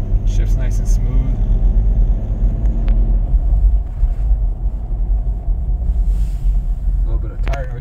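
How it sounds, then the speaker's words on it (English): Continuous low road rumble and tire roar from oversized tires inside a moving 1997 Lexus LX 450, steady and fairly loud, with faint wind noise. "A little bit of tire noise for the bigger tires,"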